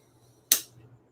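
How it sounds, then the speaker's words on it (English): A cork pulled from a bottle of Glenlivet whisky gives a single sharp, close pop, then a short fading tail over a quiet low background hum. "it's a good cork pop"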